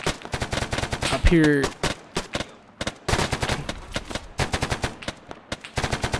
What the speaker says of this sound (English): We got a lot of fire that we're pouring on these guys all at the same time